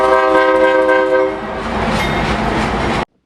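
On the Lake Superior and Ishpeming Railroad at Palmer Lake Junction, locomotive CEFX 1022 leads a short taconite ore train past searchlight signals, with a loud, sustained horn blast over a rolling rumble that then cuts off abruptly.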